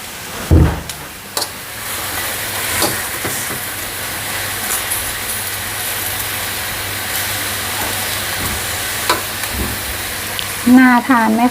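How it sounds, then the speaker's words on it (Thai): Mixed vegetables with oyster sauce sizzle and crackle loudly in a hot wok throughout, with occasional scraping clanks of a utensil stirring them. "ผัดผักเต็มกระทะเลย"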